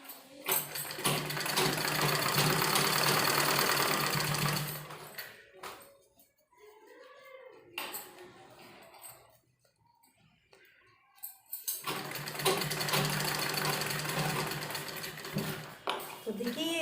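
A sewing machine stitching piping onto a trouser, running in two long steady bursts near the mic, separated by a quiet pause with light handling and clicks.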